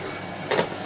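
A workshop laser cutter is running while cutting Christmas decorations. A brief mechanical whir from its moving head swells and fades within a second, fairly close, with no voices.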